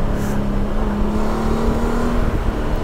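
2020 Honda Gold Wing motorcycle engine accelerating, a steady rising engine tone with strong low rumble and wind noise, loud and close, continuous for a few seconds.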